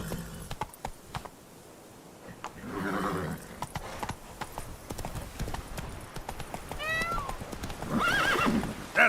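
Roach the horse in the Witcher 3 game, hooves clip-clopping in a quick steady rhythm with a couple of neighs and whinnies near the end, fairly close and moderate in level.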